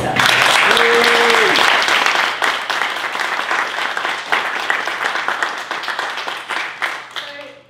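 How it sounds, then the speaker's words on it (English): An audience gives sustained loud applause after a dance company's Snow White stage show. Dense clapping starts full and gradually thins into scattered claps, with a brief vocal whoop near the start. "Round of applause for yourself."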